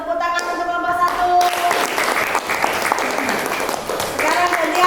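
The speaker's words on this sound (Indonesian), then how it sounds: "Tepuk tangan untuk kelompok 1" Classroom applause for a student group after its presentation in a teacher-training lesson, a dense steady clatter of many hands that starts abruptly and continues to the end.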